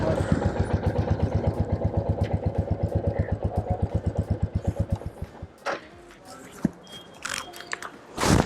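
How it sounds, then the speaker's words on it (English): A Royal Enfield Classic 350 motorcycle thumps along in a steady, close single-cylinder beat while being ridden, then the engine note drops away into wind and handling noise, with a short voice near the end. "how this motorcycle is performing on the road"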